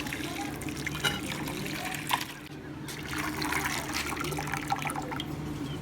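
Beef broth (yakhni) poured through a flour sieve in a village kitchen, a steady liquid trickle and splash running throughout with a brief lull midway, alongside background murmur.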